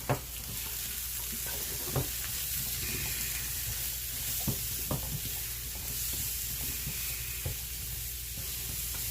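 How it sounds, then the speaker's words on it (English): Zucchini seasoned with salt, pepper and garlic cooks down in a pan with a steady, even sizzle, punctuated by occasional sharp clicks and scrapes of a utensil stirring. "we're just going to cook this until the zucchini is basically wilted down"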